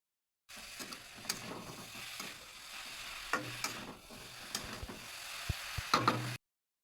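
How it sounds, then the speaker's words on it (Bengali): A carrot mixture with ginger and green chili paste is stirred in a pan, giving a soft steady sizzle with scattered scraping clicks from the spoon, quiet and close, with no talking. "আদা কাঁচা লঙ্কার পেস্ট দিয়ে একটু নাড়িয়ে চাড়িয়ে"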